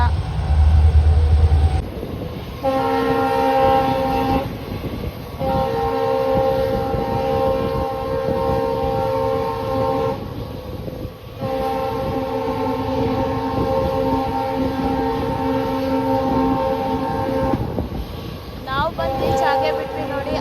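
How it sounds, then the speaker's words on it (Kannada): An express train pulled by a WDP-4B diesel locomotive rumbles steadily as it departs a station, a long, loud horn sounding in sustained blasts with a brief pause between them, close by. "ನಮ್ಮ ಟ್ರೈನ್ ಡಿಪಾರ್ಚರ್ ಆಗ್ತಿದೆ ಮರಮ್ನಹಳ್ಳಿಯಿಂದ"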